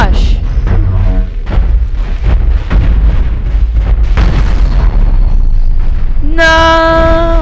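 Spaceship explosions in the space combat game Cosmoteer, a rapid barrage of loud booms and bursts one after another, with an electronic tonal alarm rising at the end; excited voices react over the blasts.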